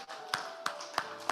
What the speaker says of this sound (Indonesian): Tepuk tangan buat ketua panitia dan panitia